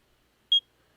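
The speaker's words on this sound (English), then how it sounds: "This is when the spider bots are coming after you." A single short, clean electronic proximity beep from spider bots in a video game, one clear tone standing alone in near silence.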